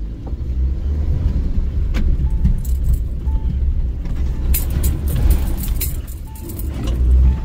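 A Mahindra Thar strains up a rutted off-road obstacle, its engine rumbling low and steady throughout, with metallic clinks and rattles from the body and loose parts scattered over the top.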